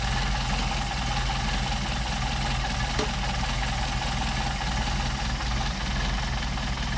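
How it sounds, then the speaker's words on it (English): A Mercedes 190SL engine fitted with Solex carburetors idles at low speed, a steady close mechanical hum and light ticking that runs unbroken, with one brief click partway through and no voices. "Idling, it's still idling at 5 and change."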